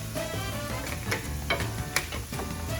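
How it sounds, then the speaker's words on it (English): Garlic and onion sizzle steadily in a hot pan, a dense crackling hiss with occasional sharp pops and spoon taps on the pan, close and continuous, with no talking. "you can see it sizzle"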